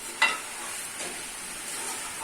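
Ground chicken keema browning in a pan for a dhaba-style Pakistani dish, giving a steady, close sizzle of frying with a brief scrape or stir near the start and no voices.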